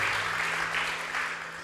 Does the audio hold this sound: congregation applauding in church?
yes